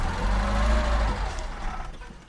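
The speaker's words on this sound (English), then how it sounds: "Hit the gas one good time first" A 1981 Datsun 210 engine revved once, a loud close surge that holds for about a second and then settles back toward idle.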